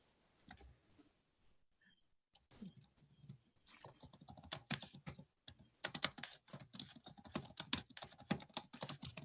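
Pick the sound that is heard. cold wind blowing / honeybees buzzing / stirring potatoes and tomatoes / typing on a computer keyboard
typing on a computer keyboard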